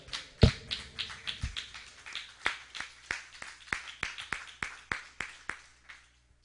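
A small church congregation gives a sparse round of applause, a few close, distinct claps spaced out in an uneven rhythm, with no voices over them.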